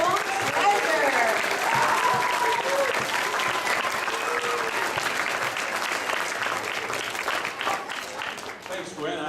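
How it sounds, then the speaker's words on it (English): A book-launch audience applauds steadily for several seconds, dense sustained clapping close and loud throughout, tapering slightly at the end with a few voices mixed in. "I'd like you to give a round of applause for our very own Mr. Dave Armstrong"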